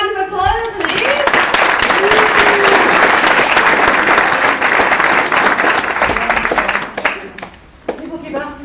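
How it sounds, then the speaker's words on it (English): An audience at a goal mapping seminar bursts into loud, close applause that holds steady for several seconds and then fades, with brief voices before and after. "Big hand of applause, please."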